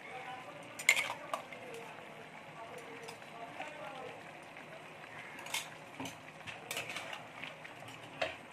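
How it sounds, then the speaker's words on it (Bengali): Chicken being mixed with spices and ginger garlic paste in a kadai, soft repeated spatula scrapes and light metallic taps under a steady background, close and fairly quiet, with occasional voice sounds. "খুব ভালো করে মশলাটা চিকেনের সঙ্গে মিশিয়ে দেব।"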